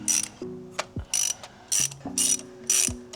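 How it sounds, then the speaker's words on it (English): A ratchet wrench with a 16 mm socket loosens spark plugs on a Mitsubishi Evo 9 engine. Bursts of rapid clicking repeat close by, with short pauses and metallic clinks between the strokes. "let's pop our spark plugs out. They are down in there. These ones take a 16 mil."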